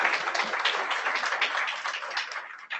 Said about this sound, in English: Yes, please give them a round of applause.